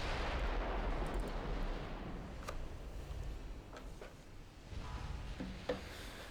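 Naval artillery fire in the warship game Ultimate Admiral Dreadnoughts, with sharp distant gun reports and impacts popping out at scattered moments over a steady low rumble of battle noise.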